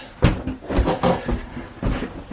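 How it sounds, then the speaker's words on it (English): A door on a superyacht being shut, giving a few short knocks and bumps close by over about two seconds, with the final clunk alone. "and then close the door behind us."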